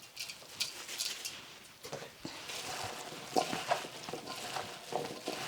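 Nabak kimchi vegetables are tossed by hand after a spoonful of salt is added, making soft, wet rustling and squelching with occasional light clicks, quiet and close.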